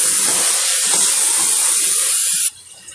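Meat frying with turmeric in a pot over a high flame gives a loud, steady sizzle for about two and a half seconds, then drops suddenly to a faint background.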